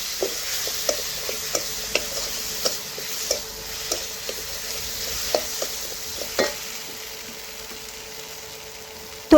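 Potatoes with cumin powder, salt and a paste of ginger, cumin, garlic and green chili sizzle in a pan while a spatula scrapes and stirs in a quick, steady rhythm of sharp clinks, close and fairly quiet.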